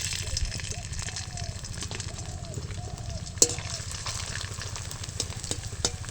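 Papad made from leftover cooked rice fries in hot oil with a steady, close sizzle and some bubbling. A few sharp clatters sound partway through.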